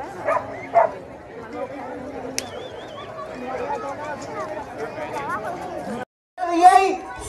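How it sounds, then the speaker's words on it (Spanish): A dog barks and yips at an outdoor village fair for a Candelaria festival, short bursts early on and again near the end, over steady crowd chatter and people talking. "para que vean ustedes qué clase de perro este tan hermoso"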